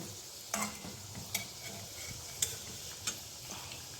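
Food frying in a pan with a steady low sizzle, punctuated by a few sharp scraping or stirring clicks at irregular intervals, quiet and close.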